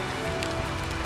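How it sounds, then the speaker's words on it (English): Steady rain falling outdoors at a plantation in Benton, Alabama, a dense, even hiss of drops that continues without pause, with no talking. "I'm out here in the rain."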